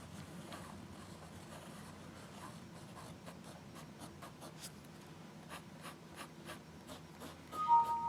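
A Rotring Core fountain pen with a smooth, stiff nib scratches softly across paper in a series of short, faint strokes and taps, close and quiet, with no talking.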